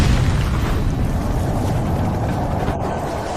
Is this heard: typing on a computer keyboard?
no